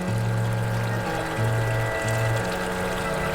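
Water pours into a tarpaulin koi pond in a steady close rush, with a low pump-like hum pulsing in regular on-off bursts underneath.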